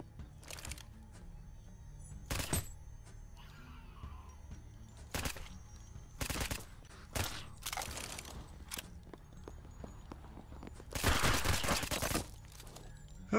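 Gunfire rings out in the Deathly Stillness video game as separate sharp single shots and short bursts spaced across the scene, loud and close, with quieter background noise between them.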